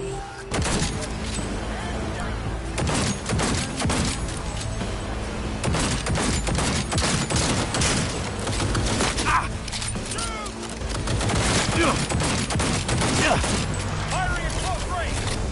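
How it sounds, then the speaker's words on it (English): Close-range gunfire in Cyberpunk 2077, a dense steady clatter of shots under game music and effects that runs for the full length, with voices talking over it. "Firing at close range!"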